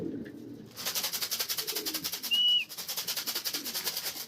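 A young racing pigeon coos softly and rhythmically in a series of pulsing calls, with a brief whistle partway through and quiet surroundings.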